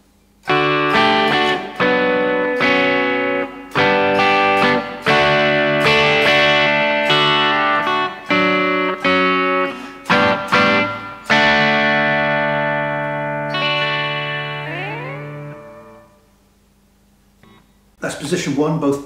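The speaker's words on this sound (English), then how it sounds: "We'll just try some, see if we can get some crunch tones." H S Anderson Mad Cat electric guitar played through a lightly broken-up crunch tone, loud close chords and rhythmic strums with ringing sustained notes, a short pause, then more strumming.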